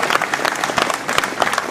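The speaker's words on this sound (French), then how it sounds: "que l'on peut applaudir" Audience applause at a mayor's New Year ceremony in Ouistreham, a short burst of dense clapping from a crowd filling the room at steady loudness.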